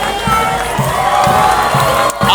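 Crowd of spectators at a town fiesta band parade in Tanza, cheering and applauding loudly as the Resurreccion Band arrives, a dense continuous roar of claps and shouts close by, with rhythmic drum hits underneath.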